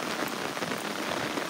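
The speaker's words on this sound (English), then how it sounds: "As you can tell, it's raining." Steady rain pattering on a hard surface beside a ditch with running water, a dense, continuous hiss of drops close by with no voices.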